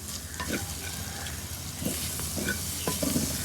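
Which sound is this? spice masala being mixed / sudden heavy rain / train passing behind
spice masala being mixed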